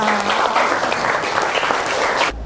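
A classroom of school students claps together in a dense burst of applause lasting a couple of seconds and then stopping abruptly, with no talk over it.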